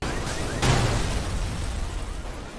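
A single loud explosive burst hits sharply, with a rumbling low-end boom that tails off over a couple of seconds.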